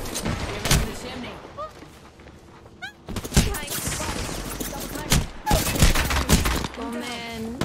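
Apex Legends gunfire pops in sharp, repeated volleys, close and loud, interspersed with game effects and short stretches of talking.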